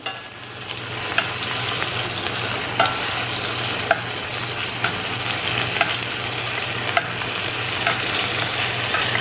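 Chicken pieces fry in a pan for a honey garlic stir fry, giving a steady, loud sizzle with faint occasional ticks and a low hum underneath, close up and continuous.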